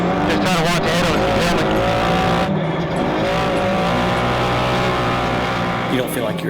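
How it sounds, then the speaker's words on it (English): A Can-Am Maverick Turbo UTV pushed hard in a championship race, its engine howling loudly and continuously with shifting pitch and tire scrub, while a voice talks over the roar. "As Dustin and Shane push their Can-Am Maverick Turbo as hard as they possibly can"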